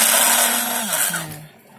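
A small Emily portable bottle blender runs up close with a loud steady motor whine whose pitch sags and steps down partway through before fading, alone with no talk.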